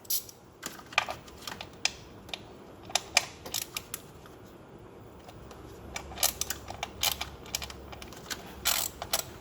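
A socket ratchet clicks in quick, irregular bursts while loosening bolts on the inlet plenum of a Ford Focus RS mk2, close and fairly quiet against a soft background hiss.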